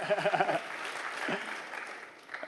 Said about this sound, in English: Big round of applause for Pete, everybody.